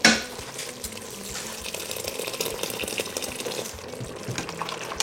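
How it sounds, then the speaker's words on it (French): Water pours into rice cooking in a pan, a close bubbling, sizzling hiss with a burst at the start and steady frothy simmering throughout, no talk. "je vais rajouter un petit peu d'eau"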